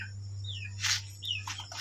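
A large bird gives a few short chirping calls, two brief rising tweets about half a second apart, over a steady low hum, with a couple of soft scuffling noises between them.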